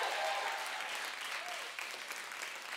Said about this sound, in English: If you're going to clap, then clap and give him praise.